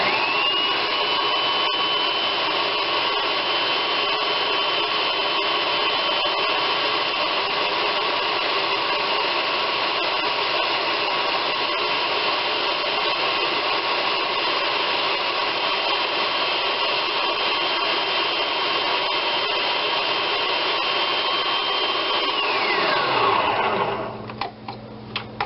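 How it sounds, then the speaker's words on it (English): A blender purees cauliflower soup with a loud, steady motor whir that runs unbroken for over twenty seconds, then spins down and stops near the end. "Now we puree."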